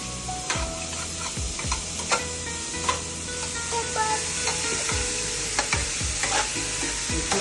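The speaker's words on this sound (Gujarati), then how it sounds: "બધા શાકભાજી સાતળી દીધા. ફાસ્ટ ગેસ પર મીઠું નાખ્યું." Carrots and other vegetables for manchow soup sauté in a pan over a high gas flame, a steady sizzle under repeated scraping stirs and clinks of the spoon against the pan.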